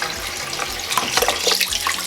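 Tap water runs steadily into a kitchen sink while chicken is prepared for oven-baked Jamaican jerk chicken, a continuous close splashing rush with a few brighter spatters.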